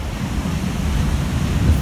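Pacific Ocean surf washes onto the beach at Carlsbad, a continuous loud rushing wash of waves mixed with gusty wind buffeting the microphone, no voices.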